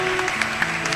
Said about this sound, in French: Applaudissons pour cet homme.